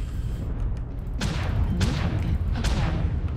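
A mech in MechWarrior Online firing missiles: three separate whooshing launch bursts about half a second apart over a constant low engine rumble.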